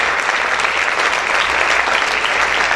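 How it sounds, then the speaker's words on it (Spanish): Sustained, vigorous applause from a congregation at a church fasting service, thick and even from start to finish with no voices standing out. "Aplausos fuerte al Rey."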